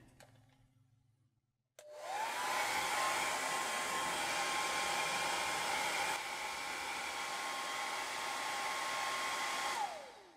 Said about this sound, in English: I'm going to hair dry the painting.